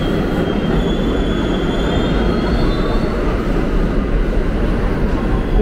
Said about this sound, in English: This is M train.